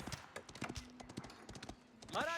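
Quick irregular clip-clop of donkey hooves in Age of Empires, a string of sharp close taps with a brief bray-like cry at the end, under faint game sounds.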